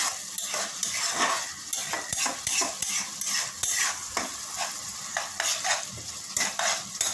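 A spice paste of coriander powder and a little water is stir-fried in a pan for a Chittagong-style dish, with rhythmic scraping strokes of a spoon over a continuous close sizzle and no voices.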